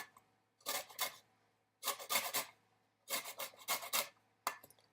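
Citrus fruit being zested by hand on a grater for a cacao and raspberry gelatin: four bursts of close, dry rasping strokes, each cluster lasting about half a second, with quiet pauses between and no talk.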